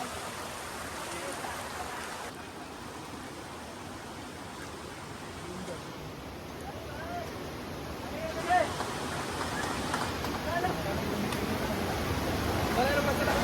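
Kalu waterfall in Maharashtra, seen from close in front where the water pressure is heavy, gives a steady, loud broadband roar of rushing water that swells slightly toward the end, with faint voices now and then.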